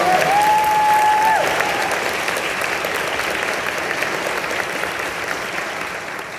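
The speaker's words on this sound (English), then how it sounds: "a huge round of applause for our mom, Sonia" A crowd of a couple hundred people applauds at a book event in West Point Grey United Church, Vancouver; steady, dense clapping fills the hall, loudest at the start and easing slightly, with a brief high whistle-like tone early on.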